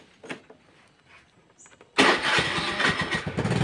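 An automatic motor scooter's electric starter, just repaired, cranks and catches. After a few faint clicks comes a sudden, steady, rough whirring engine roar that runs to the end.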